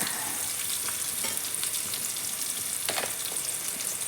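Chopped tomatoes sizzle and fry in a pan on a wood-fired clay stove, a steady close crackling hiss with occasional stirring scrapes.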